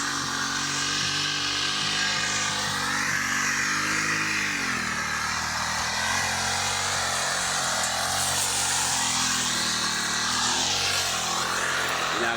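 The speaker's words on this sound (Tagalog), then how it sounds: "Grass cutter po natin yan mga idol." A grass cutter engine drones steadily and loudly throughout in a vegetable field, its pitch wavering slightly as the throttle shifts, with no talking over it.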